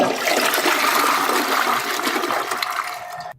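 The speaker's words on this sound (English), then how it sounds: "Toilet flush. Flush." A toilet flush plays as a sound effect, a loud rushing swirl of water lasting about three seconds before it cuts off abruptly.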